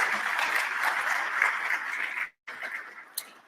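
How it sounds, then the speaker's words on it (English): An audience at the Minnesota Real Estate Journal Awards ceremony gives steady applause, a dense wash of clapping that cuts off abruptly, then resumes more thinly before tapering off. "Please join me for a quick round of applause."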